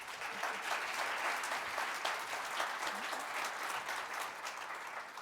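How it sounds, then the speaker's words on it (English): An indoor audience at an evening astronomy talk claps steadily for several seconds, a dense, even wash of applause with no voices rising above it. "please, big round of applause for Naomi."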